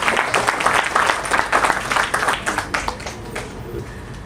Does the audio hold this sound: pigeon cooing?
no